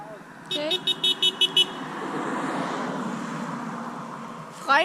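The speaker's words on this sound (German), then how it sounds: "Alle Hupen, die uns hier auf dem Berg entgegenkommen." A vehicle horn toots in a quick series of about six short beeps from a car meeting cyclists on a mountain road in Greece, followed by steady passing-traffic noise and a brief final honk.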